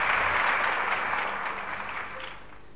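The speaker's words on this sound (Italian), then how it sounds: "E qui ci vuole un applauso." A studio audience on an Italian TV show from 1992-93 breaks into close, dense applause. The clapping starts strong and gradually fades over a few seconds, with no talking on top.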